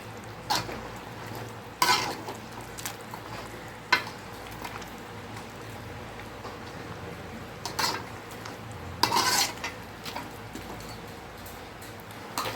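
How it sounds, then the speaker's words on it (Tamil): A spoon scrapes and clinks against a pot while chicken curry with freshly cut tomatoes is stirred, with a soft steady sizzle and sharp scrapes at irregular intervals, close and alone. "இந்த ஸ்டேஜில் வந்து நம்ம கட் பண்ண தக்காளியை வந்து ஆட் பண்ணிக்கலாம் பண்ணிவிட்டு நல்லா மிக்ஸ் பண்ணி விட்டுக்கோங்க"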